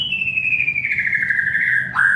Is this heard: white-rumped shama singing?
yes